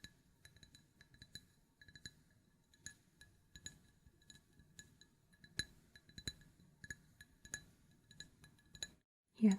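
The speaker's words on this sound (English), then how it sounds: "Hear that clinking sound?" Glassware for potion-making clinks in small, delicate taps, close and quiet, repeating irregularly with faint soft sounds between.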